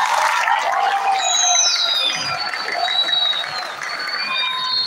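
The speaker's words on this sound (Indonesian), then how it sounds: "Tepuk tangannya mana tepuk tangannya?" Crowd applause mixed with cheering and high-pitched whistles, loud and sustained, easing slightly midway before swelling again.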